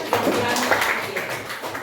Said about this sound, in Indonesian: Tepuk tangan teman-teman kita.